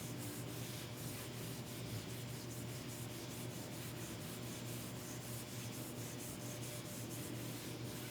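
A steady, continuous whirring and rubbing of a power tool polishing a car wheel rim with 800-grit abrasive, with faint rhythmic ticks running through it throughout.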